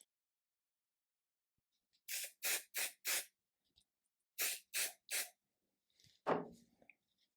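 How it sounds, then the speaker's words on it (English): Seven short hissing bursts of basting spray on fabric for embroidered patches, in two quick groups, close and fairly loud, with a brief handling clatter after; no talking. "I'm going to use the basting spray, and I'm going to spray the back of it and the front of it"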